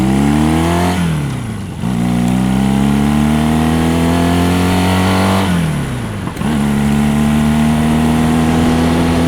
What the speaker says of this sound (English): But bike's running great.